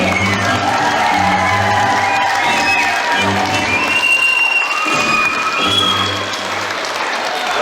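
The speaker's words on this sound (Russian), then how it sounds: "Аплодисменты." Audience applause at a ceremonial concert for young cadets after a children's dance ensemble performs, with loud, sustained clapping from a large crowd and some cheering, continuing steadily for several seconds.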